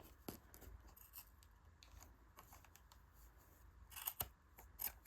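A few faint, sharp snips and clicks from scissors cutting a cable tie, scattered over a quiet background, with a couple of louder snaps near the end.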